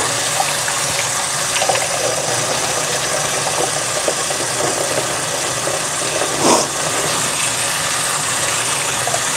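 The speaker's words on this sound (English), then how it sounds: "Wash my hands." A kitchen tap runs steadily during handwashing, a loud, close, continuous rush of water with a brief surge partway through and no talking.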